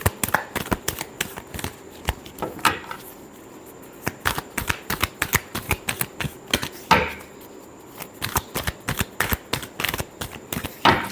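Tarot cards riffled and shuffled by hand in a rapid, crisp flurry of close flicks and snaps, pausing briefly and then resuming, with no talk over them.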